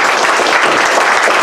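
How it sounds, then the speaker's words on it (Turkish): Dense, steady applause from a lecture audience fills the whole moment, loud and continuous with no talking. "az alkışla gelmez, çok alkış ister."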